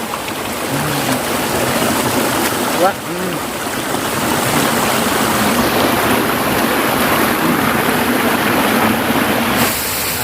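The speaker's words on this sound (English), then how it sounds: "it's a beautiful waterfall there" Continuous rushing water roars loudly and steadily throughout, a broad wash of noise with a brief bump near the start.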